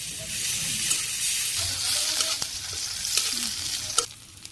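Bay leaf, cumin seeds and dried red chili sizzle in hot oil, a steady, bright crackling hiss with small pops and light stirring, continuous from start to finish.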